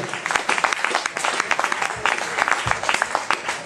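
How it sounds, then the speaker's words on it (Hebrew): Sustained audience applause at a Purim show, dense steady clapping from a crowd filling the whole stretch without pause. "המחיאות כפיים שלכם אמנם סערו"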